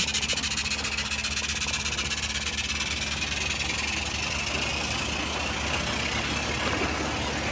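A Mamod Brunel geared toy steam engine, its cylinder warmed by hand, starts up and runs with a steady, close, continuous mechanical chuffing hiss and rattle, with no voices.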